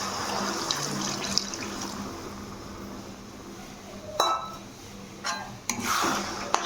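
Water poured slowly into a cornflour mix for restaurant-style chilli cauliflower, a faint trickle over a quiet kitchen background, with a few sharper splashing bursts near the end.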